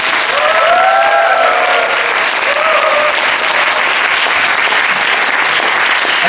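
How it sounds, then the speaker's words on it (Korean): Audience at a university book forum applauds to welcome a company chairwoman, steady loud clapping filling the hall with a few faint cheers early on. "오늘의 주인공 맥키스 컴퍼니 조은혜 회장을 큰 박수로 맞아주시기 바랍니다."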